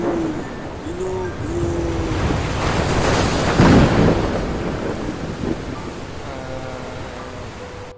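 A stormy sea with wind and crashing waves, a rushing wash that builds to a loud surge midway and then subsides, with gusting wind noise throughout.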